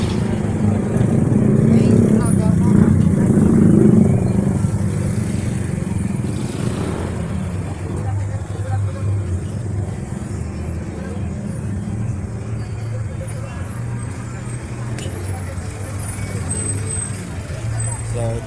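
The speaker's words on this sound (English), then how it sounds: "the traffic doesn't stop just because there's a festival" Street traffic passes during a town fiesta in Jaro, Iloilo: a continuous low rumble of cars, trucks and motorcycles, heavier at the start and then settling into a steady drone.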